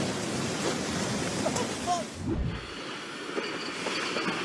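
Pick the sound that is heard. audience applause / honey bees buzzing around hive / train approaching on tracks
train approaching on tracks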